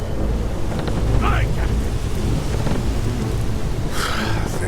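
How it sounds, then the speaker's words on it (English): Audio-drama sea storm with dense roaring wind and rain, low rumbling thunder and a steady wash of noise around a ship, loud and continuous with no voices. "The storm doesn't seem to be letting up anytime soon"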